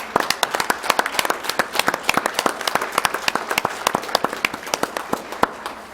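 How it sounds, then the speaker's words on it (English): A board meeting audience gives a standing round of applause for the public health department, many hands clapping in a sharp, steady patter, close and sustained throughout with no talk over it. "give the public health a round of applause"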